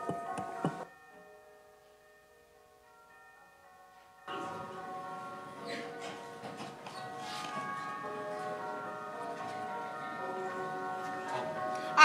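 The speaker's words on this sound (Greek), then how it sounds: "Ακούστε σήματρα, παιδιά, γλυκόλαλες καμπάνες" Church bells ringing at a Greek school performance: a brief clang at the start, a hush, then sustained overlapping bell tones that resonate steadily to the end, moderately faint.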